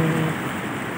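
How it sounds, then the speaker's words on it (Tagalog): Steady rain pours down in a dense, even hiss, with a low rumble underneath and no voices. "Rom, tara Rom, medyo lumalakas na naman yung ulan, no?"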